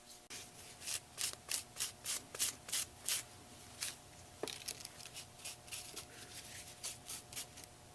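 Rust effect paste is wiped off a mixed media canvas in a run of quick, rhythmic rubbing strokes, a dozen or so soft swipes close by and fairly faint, with no talking.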